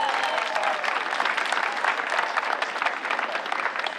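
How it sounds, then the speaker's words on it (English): An audience applauds at a Mount Vernon High School graduation ceremony in June 2022, sustained thick clapping from a large crowd, loud and even for the whole stretch with a faint murmur beneath. "Can we give them a round of applause?"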